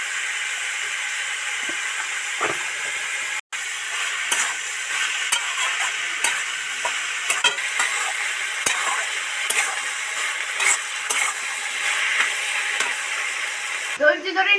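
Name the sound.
stirring banana-flower samosa filling in a pan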